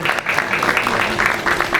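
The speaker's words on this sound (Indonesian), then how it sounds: "dan kita berikan tepuk tangan yang hangat atas kata sambutannya" Warm applause from an audience at an Indonesian aesthetics industry anniversary event after a welcome speech, a steady wash of many hands clapping at moderate volume throughout.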